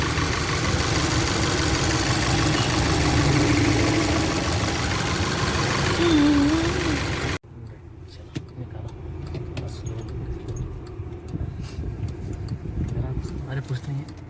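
A car engine idles after a misfire repair with a steady, even mid-pitched rumble, first loud and close, then quieter after an abrupt cut, while people talk over it.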